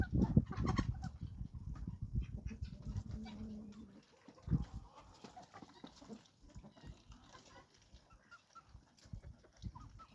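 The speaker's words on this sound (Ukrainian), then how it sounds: "І великий півник заграє до бентамки через сітку." Chickens, including bantams, cluck and murmur close by, with a large rooster's low calls early on through a wire mesh, followed by quieter scattered clucking and farmyard rustling.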